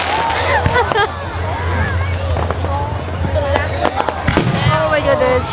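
Fireworks bursting overhead at a park fireworks show in Rosemead, with repeated booms and crackles close by, heard under excited talk and crowd chatter.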